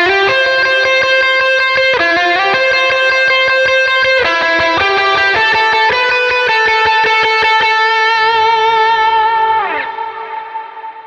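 Electric guitar notes ring out with heavy delay from a Timeline pedal and reverb, each chord repeating and washing into a shimmering ambient tail that fades at the end.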